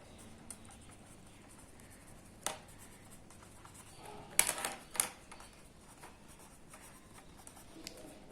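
A pen scratches across paper while a sales tax numerical problem is worked out by hand: faint, close strokes with a few sharper taps and scrapes against a quiet room.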